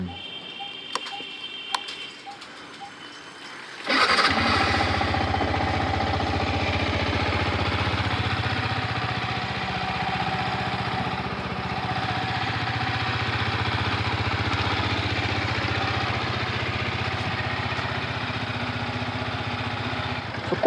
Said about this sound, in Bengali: সকাল সকাল কারকে বার করে করতে হবে ওকে কোল্ড স্টার্ট